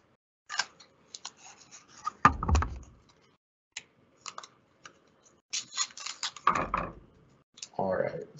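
Adhesive tape is pulled from the roll and wrapped around a homemade spectroscope, giving quiet, close, scattered rips and crinkles with a few louder tearing bursts in a quiet room.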